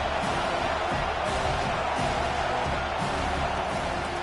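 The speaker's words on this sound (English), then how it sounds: "Decibels rising as the crowd gets behind this defense on 3rd down." Stadium crowd in the NCAA 25 college football video game, a steady loud roar of cheering that swells in waves on a defensive third down, filling the whole stretch without a break.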